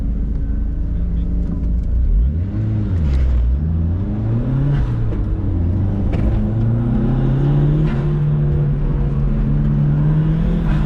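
A car launches from the start line of an autocross course at a superspeedway, its engine note climbing steadily and loudly in pitch as it accelerates, with a person talking over the engine.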